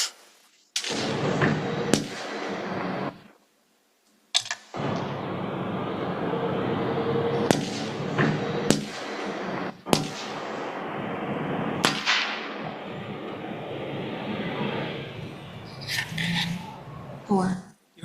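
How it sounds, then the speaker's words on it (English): A replayed recording of gunshots near a truck on a road brings a series of sharp cracks, some loud and some fainter, cutting through steady hiss, with brief gaps and voices talking around them. "You heard 4 gunshots?"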